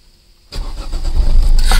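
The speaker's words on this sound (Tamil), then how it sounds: "இப்போ பாத்தீங்கன்னா வண்டி நம்ம ஸ்டார்ட் பண்ணிக்கலாம்." A car engine cranks and catches after half a second of near-silence, then settles into a steady, close running rumble, with no talk.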